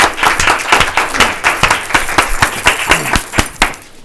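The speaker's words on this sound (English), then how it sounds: "I want to first give a round of applause to our Public Works people" An audience at a township public meeting applauds the Public Works staff, a loud burst of dense, uneven handclaps that carries steadily for several seconds before thinning out at the end.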